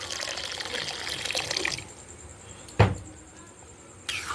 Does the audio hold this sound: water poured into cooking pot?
yes